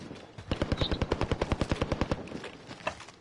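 Rapid automatic gunfire in a video game: one close, loud burst of about twenty evenly spaced shots, with quieter scattered shots before and after.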